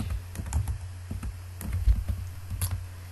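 Keys clatter on a computer keyboard in uneven bursts of close, crisp clicks while someone types a project name and date into a form, with a low steady hum beneath and no voices.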